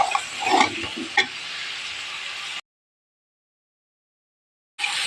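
Pumpkin frying and being stirred in a pan, steady close sizzle with a few scraping stir strokes, cutting off abruptly midway before the sizzle resumes.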